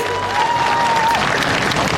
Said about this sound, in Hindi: जोरदार ताली बजाओ मुलायम सिंह जी के लिए।